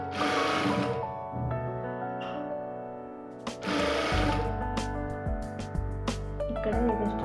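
A sewing machine stitching a blouse lining, running in steady whirring bursts with short pauses and clicks between them, close and clear with no talk.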